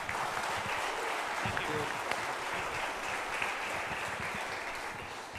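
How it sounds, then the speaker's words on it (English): Audience applauding an MC at a choir concert evening, a steady broadband wash of clapping held at even loudness throughout, with some talk mixed into the crowd noise. "Please give a round of applause to Shehan."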